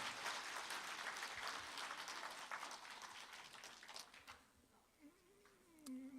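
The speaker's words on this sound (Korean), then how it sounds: "여러분 박수 부탁드리겠습니다." Audience applause at a Korean political party leader's inauguration speech, a steady, fairly faint wash of clapping that fades after a few seconds, followed by a brief voice.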